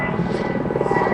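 A helicopter flies low overhead, its close, steady rotor drone with a pulsing thump filling the whole short moment.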